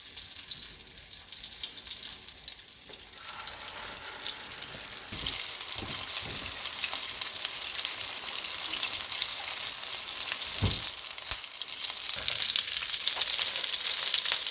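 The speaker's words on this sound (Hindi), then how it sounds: "इस तरह से 1 बाय 1 सब कबाब हमने अंडे में डिप करके पैन में डाल देने हैं" Egg-dipped beef or mutton shami kababs shallow frying in a pan over medium heat, a continuous sizzle that grows louder as more go in, with occasional soft knocks and no voices.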